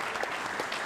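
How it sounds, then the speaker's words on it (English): Audience applause at the AFC Champions League Two 2025/26 group stage draw ceremony, a brief, faint, steady patter of clapping heard from a distance. "big round of applause, ladies and gentlemen"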